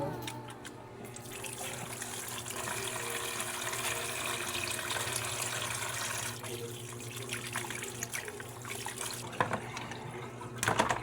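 Tap water runs steadily into a sink while washing up, a continuous close rushing splash with faint background noise throughout.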